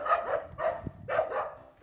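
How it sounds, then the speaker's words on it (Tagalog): Dogs in a quiet rural village in Korea barking, with three or four loud, sharp barks in quick succession nearby. "Dami ng mga aso."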